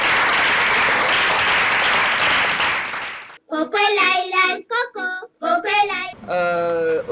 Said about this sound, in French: Merci beaucoup, on applaudit encore.